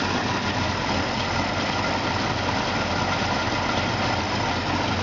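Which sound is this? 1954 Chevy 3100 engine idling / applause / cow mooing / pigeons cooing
1954 Chevy 3100 engine idling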